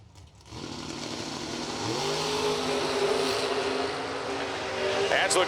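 At a drag strip, a 65 Chevelle and a low-slung Nova launch together, their engines a loud sustained buzzing roar that climbs in pitch as they accelerate down the track, heard from a distance with an announcer talking over them.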